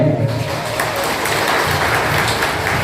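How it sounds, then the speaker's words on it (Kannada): An audience claps loudly and steadily at a refresher training workshop, a dense continuous burst of applause from many hands filling the room throughout. "ಎಲ್ಲ ಕೈಯಿಂದ ಜೋರಾಗಿ ಚಪ್ಪಾಳೆ"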